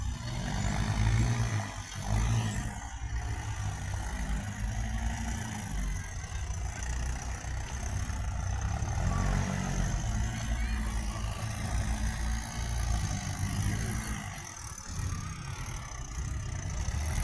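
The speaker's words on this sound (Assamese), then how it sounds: "ট্ৰেক্টৰ দাংখাই দাংখাই যায়।" A tractor hauling sand from the Brahmaputra riverbank at Goalpara drives along with a steady, mid-pitched diesel drone, fairly faint and continuous, with some rattling bumps.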